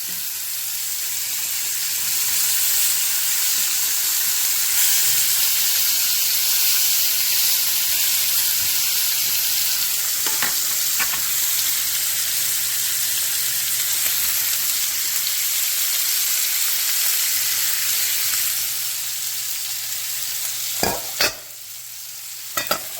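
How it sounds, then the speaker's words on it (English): Meat sears in a hot pan with a loud, steady sizzle and hiss that runs almost unbroken, and a few sharp utensil clinks come near the end. "make sure your meat is getting good contact with the pan, because you want that nice sear"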